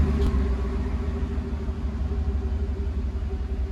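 A GMC Sierra 5.3L V8 idles with its muffler cut off, a steady deep, throaty exhaust rumble close by with a faint tonal drone.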